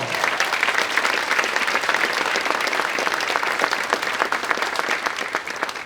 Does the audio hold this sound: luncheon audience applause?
yes